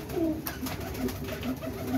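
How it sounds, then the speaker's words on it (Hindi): Pigeons of a prized breed softly cooing close by, a steady run of low throaty coos repeating every half second or so with faint rustling and no talk. "ले जी वीवर ये भी चेक करें ज़रा कबूतर।"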